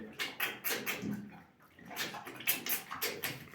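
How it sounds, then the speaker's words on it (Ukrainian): A pig in a small home pigsty drinking water, with a run of wet slurping and lapping sounds in irregular bursts, close by, with no talk. "п'є водичку"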